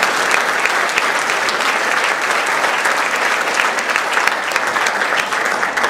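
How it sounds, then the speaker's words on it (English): A Toastmasters keynote audience gives a loud, sustained round of applause, many hands clapping densely and evenly throughout with a faint crowd murmur underneath. "Look, give her a round of applause."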